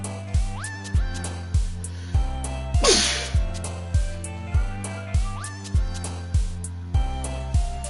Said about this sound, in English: I had to sneeze and I think I'm gonna sneeze again.